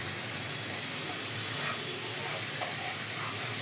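Spice paste frying in a pan on lowered heat for a spicy hilsa fish curry, giving a steady broad sizzling hiss with faint stirring scrapes, close and continuous without talk.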